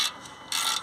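A ratchet fitted with a 15mm socket cranks at the bottom brake caliper bolt of a Range Rover Evoque, giving two close, bright bursts of metallic clicking separated by a brief quieter pause.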